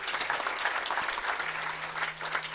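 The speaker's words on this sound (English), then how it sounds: "Please clap for SIDA." Audience applause at a climate justice summer school in Nairobi, a continuous patter of many hands clapping at moderate level, with a low steady hum entering partway through.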